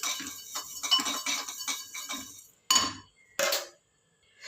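Sesame seeds sizzle and crackle in a hot pan during an eggplant fry made without onion, a dense run of sharp close pops followed by two louder separate bursts, with no talking.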